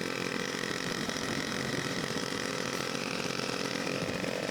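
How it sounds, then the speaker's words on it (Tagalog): A motorcycle engine labors along a road during a town fiesta, a steady buzzing, strained drone that holds constant and fairly faint throughout, with no talk. "hirap ang tunog ng motor diyan eh"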